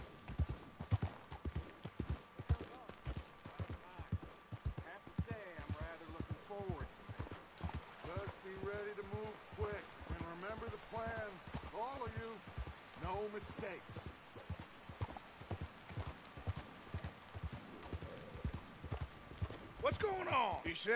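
Hooves clip-clop at a steady walking pace throughout in Red Dead Redemption, with voices talking over the rhythmic clatter.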